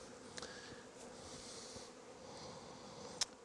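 Honey bees fanning at the entrance of a mini nuc hive used for raising queens, a soft, steady insect hum with a few brief louder buzzes as bees fly close.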